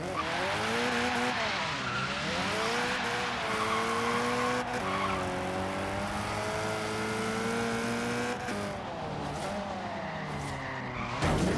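An old, heavy classic car in Forza Horizon 3 slides through corners with long, continuous tire squeal over a steady engine drone, the pitch rising and dipping as it drifts for about eleven seconds.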